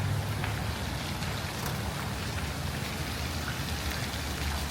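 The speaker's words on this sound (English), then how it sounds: "It's kind of fun little rain gizmos that drop water into the pool" Decorative rain fixtures drop water into an indoor hotel pool, giving a steady, even patter and hiss that fills the space without pause, with no voices.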